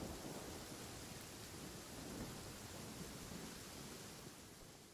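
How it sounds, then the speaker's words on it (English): Steady heavy rain pours with a deep rumble of thunder underneath in the video game Genshin Impact, constant and enveloping with no voices. "It's raining and we're gonna eat while it's raining."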